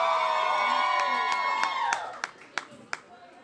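Concert crowd cheering, screaming and whooping loudly as one dense roar that fades after about two seconds, leaving a few sharp claps and shouts.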